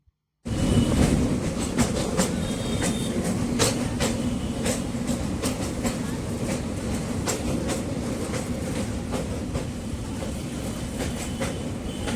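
A train rolling steadily along the rails, continuous rumble with rhythmic clickety-clack of wheels over joints, loud and close throughout.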